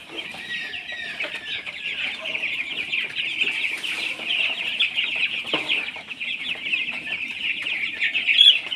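Broiler chickens on a farm cluck and chirp continuously in a dense chorus, with many birds calling at once at close range and no talk over them.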